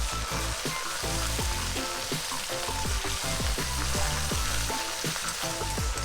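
Lamb sizzles loudly in a cast-iron potjie pot over heat as ready-made jarred garlic goes in, a dense continuous crackle and hiss that stays even and close throughout.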